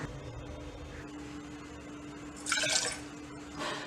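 Three tumblers, about 600 ml, of water are poured into a cooking pot while making an instant breakfast batter, giving a brief bright splashing burst midway over a faint steady kitchen hum, with a softer splash near the end.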